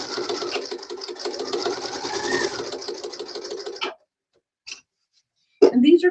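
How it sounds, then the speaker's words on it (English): Steady, rapid stitching of a sewing machine runs for about four seconds as it sews fabric handles, then stops, followed by a faint click and a brief rustle. "I want you to sew on that line as best you can."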